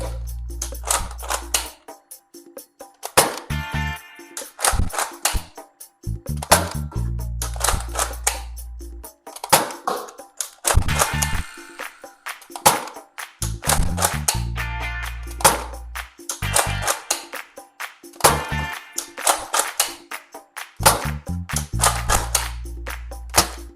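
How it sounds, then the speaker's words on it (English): An Adventure Force Arsenal X toy dart rifle fires repeatedly in a fast uneven sequence of sharp clacking shots, each a loud mechanical snap with a low thump, broken by short pauses, with no talking. "let's get to the firing test of these two and see how it performs"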